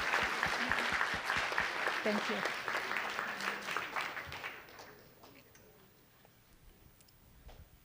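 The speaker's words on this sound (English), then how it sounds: "Let's give a quick round of applause," A live theater audience gives a quick round of applause after a talk on AI, a full burst of clapping that thins out and fades by about five seconds, and someone briefly speaks over it.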